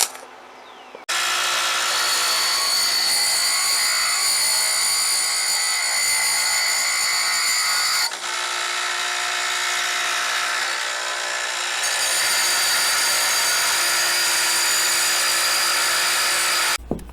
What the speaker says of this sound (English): I'll grind the rest of the imperfections off.